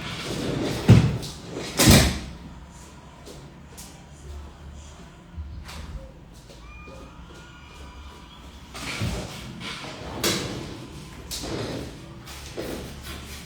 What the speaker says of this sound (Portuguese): eu tenho que fechar a porta aqui